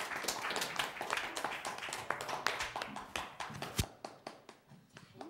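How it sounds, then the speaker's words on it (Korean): An audience claps steadily for a young performer at a Korean church gathering, a dense run of hand claps that thins into scattered individual claps toward the end, with no talk over it. "우리 서윤 양을 위해서 우리 큰 박수로 맞이해 주세요"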